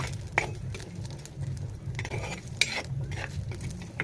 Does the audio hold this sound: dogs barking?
no